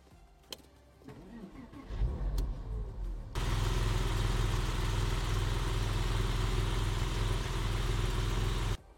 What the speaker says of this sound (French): Écoutons désormais ce flat 6. Bien évidemment, on est dans une Porsche, donc démarrage à gauche.